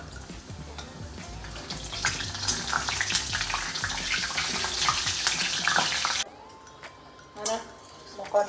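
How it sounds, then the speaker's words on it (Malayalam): Dried kondattam chillies fry in hot oil in a home kitchen, a steady loud sizzle and crackle lasting about six seconds before dropping away, followed by a few faint clinks. "അങ്ങനെ കൊണ്ടാട്ട മുളക് പൊരിച്ചിടുന്നുണ്ട്."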